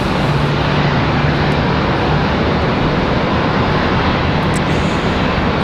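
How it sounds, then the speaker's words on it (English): A JetBlue airliner departs Raleigh-Durham airport, its engines giving a dense, loud, continuous roar that holds evenly through the whole stretch. "check out JetBlue's departure from the alleyway"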